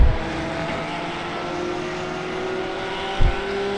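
Porsche Cup race cars in the iRacing sim produce a steady, moderately loud engine drone while overtaking, with a short thump near the end.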